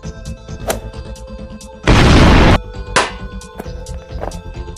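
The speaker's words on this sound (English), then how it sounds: "Activating explosive shuriken." An explosive shuriken detonates in a LEGO Ninjago animation, a single loud, short roaring blast amid busy background sound.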